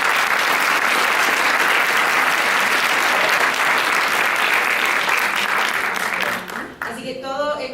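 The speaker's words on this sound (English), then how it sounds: "Let's give them a round of applause." Loud, dense audience applause fills a film festival closing ceremony hall, sustained for several seconds before quickly tapering off near the end.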